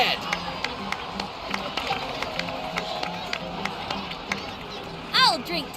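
Steady crowd applause and cheering in the video game Genshin Impact: dense, continuous clapping and sharp claps form a busy wash of sound, with music and a brief rising tone near the end.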